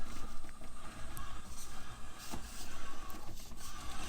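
RC crawler truck's electric motor straining as it climbs over an obstacle, a steady whirring drone with fluctuating load and no talking.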